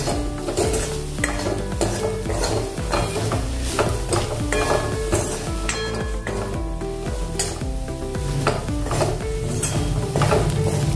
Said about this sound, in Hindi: इसको 1 मिनट भूनेंगे अभी धीमी आंच पर